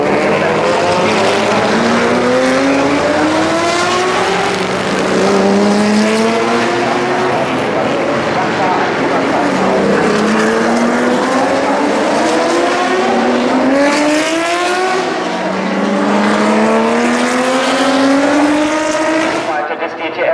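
BMW race car, start number 6, at Norisring during the 2014 Norisring Race Classics, roaring loud and close along the start-finish straight with engine pitch rising through repeated gear changes, under continuous commentator talk.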